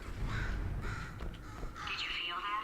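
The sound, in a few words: bird cawing in the video game Portal 2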